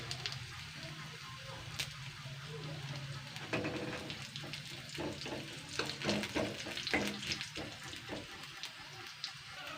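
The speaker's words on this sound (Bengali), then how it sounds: "2 মিনিট ধরে একটুখানি হালকা করে জিরে আর শুকনো লঙ্কাটা একটু ভেজে নিয়েছি" White cumin seeds and split dried red chillies fry in a pan beside potatoes, giving a steady close sizzle broken by scraping stirs and clinks of a utensil.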